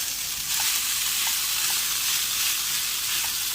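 Tofu sizzles steadily in a hot pan for a tofu scramble, a continuous close frying hiss with a few small pops, no talk.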